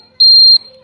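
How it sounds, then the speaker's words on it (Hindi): A turn-indicator safety beep fitted to a modified Hero HF Deluxe motorcycle gives a single steady, high-pitched electronic tone lasting about a third of a second, loud and close, with faint background noise around it. "जैसे हम इंडिकेटर दे रहे हैं तो बीप होगी"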